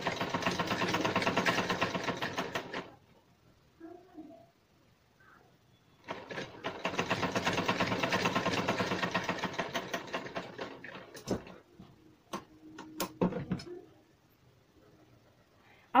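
Electric sewing machine stitching a lace strip made from leftover fabric scraps at home, two sustained bursts of fast, steady mechanical whirring separated by a quiet pause, with a few light clicks and handling knocks afterward.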